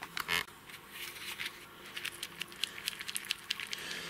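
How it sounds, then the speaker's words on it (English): Compost sifted over seed trays with a small mini sieve makes soft, dry, irregular pattering and rustling, with granular crackles and light scraping taps close by, quiet and without talking. "so what I'll just do is I'll sift some on top"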